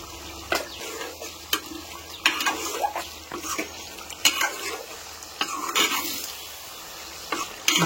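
A spoon scrapes and stirs Telangana-style chicken curry with red chili and coriander powder in a pan, giving loud, close, irregular clanks and scrapes over a steady sizzle, with no talking.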